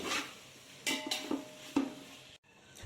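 A spatula stirs sliced onions with ginger-garlic paste in a pan for dum biryani, with a few sharp metallic clinks and scrapes against the pan over about three seconds. Close and fairly quiet, with no voices.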